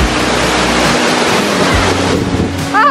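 Water rushes loudly and continuously at a waterfall in Serra da Canastra, with a broad dense roar close by. A short voice-like sound briefly rises near the end.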